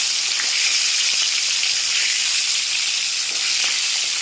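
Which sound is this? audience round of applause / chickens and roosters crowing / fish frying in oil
fish frying in oil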